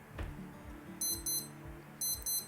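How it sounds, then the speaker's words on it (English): A Casio W-218 digital watch in alarm mode sounds two quick pairs of high, thin electronic beeps about a second apart, clear and close over a low background hum. "and it will give beeping sound like this"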